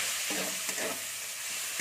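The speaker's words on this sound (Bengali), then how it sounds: "এর মধ্যে আমি পেঁয়াজটা যে থেতো করে রেখেছিলাম পেঁয়াজটা দিয়ে দিচ্ছি।" Crushed onion fries in a pan with a steady, fairly loud sizzle and brief stirring scrapes, no voices.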